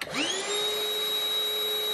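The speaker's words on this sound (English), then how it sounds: "This is the sound of the vacuum running on the Ryobi battery." A cordless vacuum cleaner on a Ryobi battery spins up with a rising whine that settles into a steady, strong high-pitched hum and rushing air, close up and continuous.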